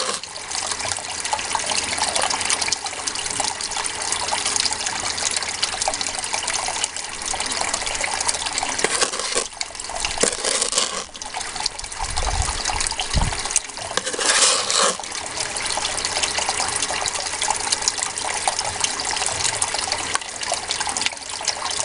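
Water rushes continuously through a gold cleanup sluice with a magnetic gold trap, a steady broadband gush with brief splashing surges near the middle, close by and with no voices.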